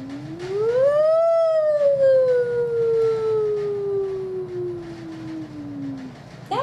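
A single voice mimics a siren, sliding smoothly upward and then gliding slowly down in one long, loud, sustained tone.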